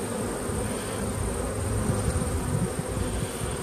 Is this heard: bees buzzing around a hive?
yes